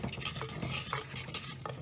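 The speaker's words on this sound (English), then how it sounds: "you wanna keep stirring" A pot of rice flour flatbread batter is stirred on the stove, giving soft, continuous scraping and swishing at a low level with a few faint utensil taps, close by and with no speech.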